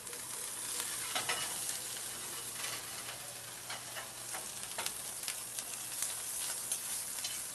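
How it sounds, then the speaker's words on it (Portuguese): Cubes of boiled pork belly fry in a very hot pan with a little added oil, giving a loud, continuous crackling sizzle with scattered sharp pops and occasional stirring throughout. "A gente vai colocar numa frigideira bem quente a barriga de porco cozida, que eu cortei em cubinhos."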